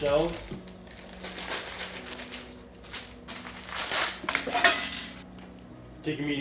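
Pasta shells clatter and rattle as they are poured into a metal pot, a brief rustling cascade of hard pieces, close by.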